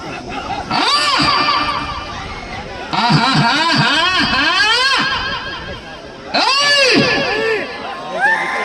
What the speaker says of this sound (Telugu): గట్టిగా విజల్లో కేకలు.